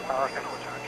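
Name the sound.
Cessna 172 airplane engine adding power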